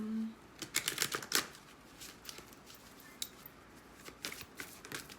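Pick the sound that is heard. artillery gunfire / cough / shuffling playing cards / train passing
shuffling playing cards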